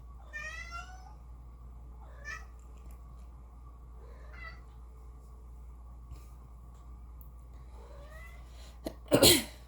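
Several soft cat meows are followed by one sharp, loud sneeze near the end, close by, over a low steady background hum.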